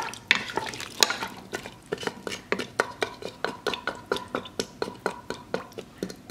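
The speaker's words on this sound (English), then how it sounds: "Stir this around." A spoon stirs beef stew with diced carrots and potatoes in an Instant Pot, making a steady run of close, wet scraping strokes against the inner pot, roughly two or three a second.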